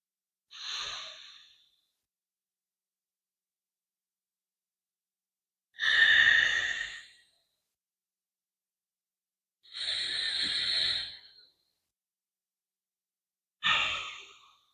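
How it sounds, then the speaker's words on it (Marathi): Slow, deep breaths drawn and released through one nostril at a time during alternate nostril pranayama in a beginners' yoga practice. Four long, separate breaths come with silent pauses between them, close and alone. "दक्षिण नासिकानं लंबा गहिरा श्वास आत घ्यायचा आहे"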